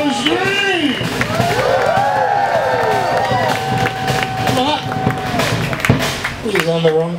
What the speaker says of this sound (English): Everyone's scream!